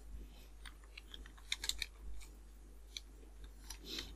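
Keys on a computer keyboard tapped to enter a spreadsheet formula, giving faint, scattered clicks with a short quick cluster in the middle, close by over a low steady hum with no talking.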